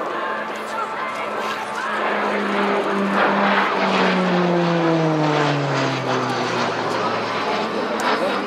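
A T-6A Texan II propeller trainer flying a triple roll at an airshow, its engine note rising and sliding down in pitch as it passes, loud and fairly close, with a commentator speaking over the aircraft.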